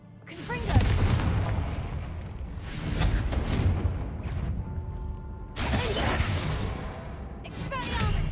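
Fiery spell blasts cast in a wizarding video game, several loud whooshing bursts and booms with crackling debris, repeated across the clip over steady game ambience.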